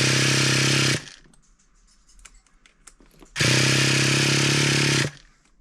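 A Kyosho Mega Force nitro RC engine from 2001, primed with fuel, fires up in two loud, steady high-pitched buzzing bursts of about one and a half seconds each. A quieter gap with clicks and rattles separates them.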